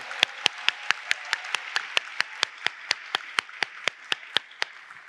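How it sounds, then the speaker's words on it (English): Keynote audience at a Cloud Next '19 developer event applauding the demo team, heard as a fast, even run of crisp individual claps standing out over a softer bed of crowd clapping. "let's have one more round of applause for Nick, Priya, and Dan, our demo team"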